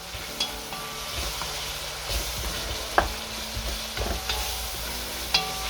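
A spoon mixes marjoram into a chilli con carne pie filling in a pan, with a gentle sizzle, scraping and a few sharp metallic clinks spaced across the stir.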